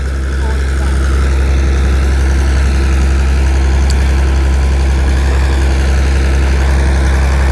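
A large-pipe water pump's engine idles steadily at normal revs, a loud, constant low drone with a deep hum that holds unchanged throughout, close by and without pauses.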